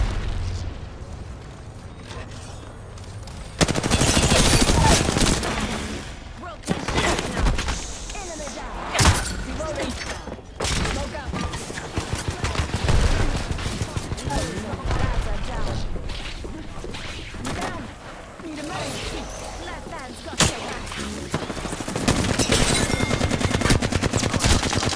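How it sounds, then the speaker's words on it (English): Heavy gunfire in Apex Legends: loud, dense bursts of automatic fire and sharp single shots, with booming impacts scattered through a busy, continuous battle. "Shot fired, and they're hitting me."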